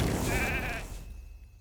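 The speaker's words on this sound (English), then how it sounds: "Sheep." A sheep bleats in the mobile game RAID: Shadow Legends, a loud wavering cry that fades after about a second into quiet background game sound.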